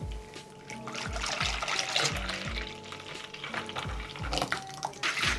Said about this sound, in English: Half a liter of heavy cream.